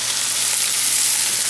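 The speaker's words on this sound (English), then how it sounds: "now I have celery, carrots, onions in oil" Celery, carrots and onions fry in oil with a steady, dense sizzle that stays close and continuous, and no one speaks.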